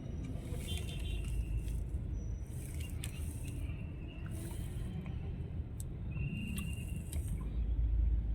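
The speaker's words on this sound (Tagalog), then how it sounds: "Napaka-traffic mga ka-driver." Heavy road traffic on Camias Road in Kamuning, heard as a constant low engine rumble from a nearby vehicle with intermittent higher hissing sweeps from passing cars.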